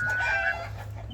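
An ornamental show chicken at a Turkish breeder's coop makes a short, fairly loud clucking call over a low steady background hum.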